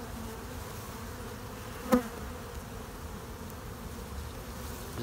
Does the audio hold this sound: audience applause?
no